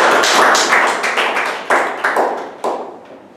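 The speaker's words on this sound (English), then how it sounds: "give him a round of applause" A round of applause in an office meeting: several close, loud bursts of clapping by a small group, swelling and fading in waves before tapering off, with no talking.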